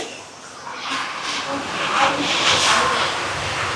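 A pot of curry boils nearby with a steady, rushing hiss and soft bubbling that swells slightly and keeps going throughout.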